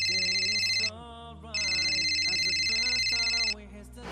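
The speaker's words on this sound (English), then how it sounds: "Now my phone is ringing." A mobile phone rings loudly in two long bursts of a bright electronic trill separated by a short gap, over a low sustained musical tone, with no one speaking.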